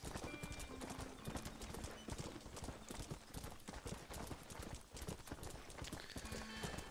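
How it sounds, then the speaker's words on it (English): Rapid hoofbeats of a galloping horse in the video game Red Dead Redemption clatter steadily, with a couple of whinnies breaking through, loud and close throughout. "My horse is going mad."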